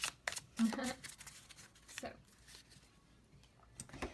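Tarot card deck being shuffled, with a few quick riffling and flicking bursts spread across the span, faint and close, while a person talks over them.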